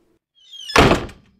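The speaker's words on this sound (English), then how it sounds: "Let me open the door." A door opening in the horror video game Lost in Vivo: a rising creak leads into one heavy, loud thunk that rings briefly and fades, with no talking.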